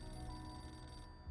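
A telephone rings inside a video game, a steady electronic ringing tone held over a low hum of game background sound, with no voices.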